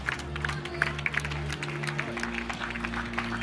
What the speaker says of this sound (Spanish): Fortísimo aplauso para recibirlos